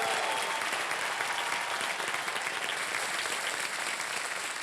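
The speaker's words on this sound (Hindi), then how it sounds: "जोरदार तालियां शिवानी के लिए।" A studio audience at a Hindi TV game show, Wheel of Fortune, breaks into loud, sustained applause that stays full and even from start to finish with no talking over it.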